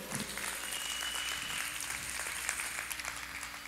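Church congregation applauding during a sermon, a steady wash of many hands clapping at moderate volume, continuous for a few seconds.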